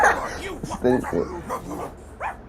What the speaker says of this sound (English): Why they barking, bro?